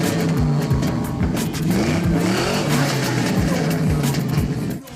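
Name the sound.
Impala with 97 Vortec motor revving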